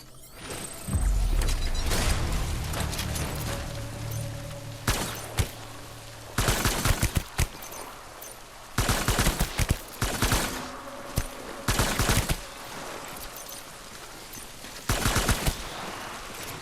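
Hermetic bullets fire in Death Stranding, coming as several sharp bursts of rapid gunfire separated by short pauses, with a low rumble and mechanical clicks between them.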